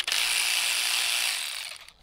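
An ACDelco cordless ratchet whirs steadily for about two seconds while backing out valve cover bolts, a loud, close, high buzzing motor tone that trails off at the end.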